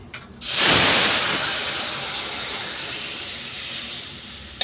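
Boiled lentils are poured into a hot fenugreek and mustard-seed tempering, setting off a sudden loud hiss that eases into a steady sizzle and keeps going, close by, with no voices.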